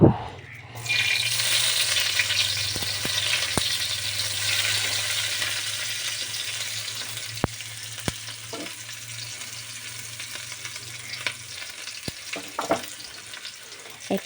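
Oil sizzles and fries in a karai while cooking Brahmi saag, a bright steady hiss that starts abruptly after a short pause, with occasional clicks and stirring taps.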